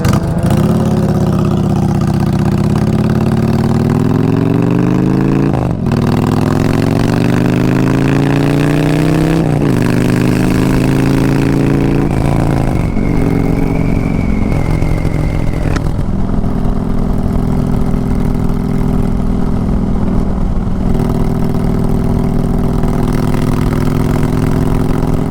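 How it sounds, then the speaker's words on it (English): 2022 Honda Fury motorcycle engine, loud and close, settling into a steady idle with several rising revs that sweep up and fall back, the exhaust note droning continuously throughout. "The sound of the engine"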